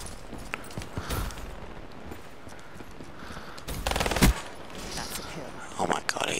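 Gunfire from a weapon in Black Ops 3 gun game, bursts of shots crackling over a dense, noisy mix of game sounds, with a louder volley standing out near the middle.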